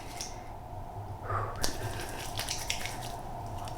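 Wet, squishy rubbing as cleanser is worked over a damp face with a little water, soft close drips and small splashes against a quiet background.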